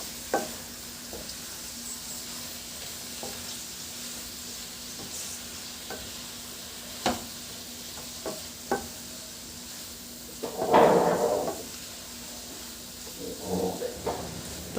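Seasoned vegetables are gently mixed in a pan, with scattered soft utensil taps over a faint steady sizzle and a louder burst of rustling stirring near the end.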